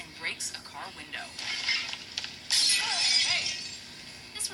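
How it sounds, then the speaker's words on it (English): A car window shattering in a rainy alleyway film scene, with sharp breaking glass and crackling splinters that swell into a loud, sustained crunch midway, over faint background sound. "as she's running away, she slips and breaks a car window"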